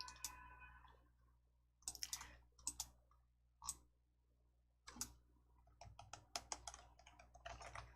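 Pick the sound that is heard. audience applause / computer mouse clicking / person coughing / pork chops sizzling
computer mouse clicking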